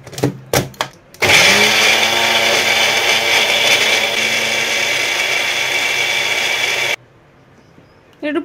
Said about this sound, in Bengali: এই ধনে পাতা কাঁচা লঙ্কা জল দিয়ে একসাথে বেটে নেব।